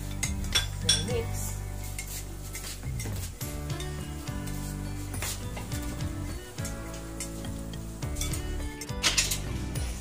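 Utensils clink and scrape against a pan or bowl while ingredients for a sweet and sour fish sauce are stirred together, with a faint sizzle underneath and steady clattering throughout, no voices.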